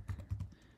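A short burst of keyboard typing, a handful of quick, soft key taps close by, fairly quiet.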